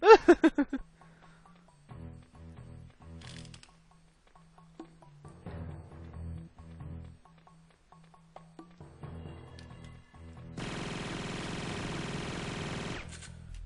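Video game gunfire during a mission: a rapid burst of shots at the start, then scattered quieter game effects, and finally a sustained rattling stretch of fire near the end, with no talking.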